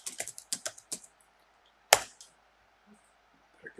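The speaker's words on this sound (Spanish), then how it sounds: "Vamos a teclear por aquí un esquema." Close, quiet typing on a computer keyboard: a quick run of crisp keystrokes, a single sharp tap after a pause, then a few more faint clicks, with no voices.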